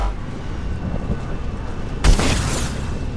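A guided missile fired from a vehicle in Mass Effect 2 sounds after a low rumbling stretch, landing as one sudden loud blast that leaves a rough, fading roar.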